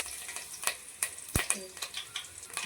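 Curry leaves spitting in hot oil in a pan, a few sharp crackles and pops over a faint sizzle, close by and fairly quiet.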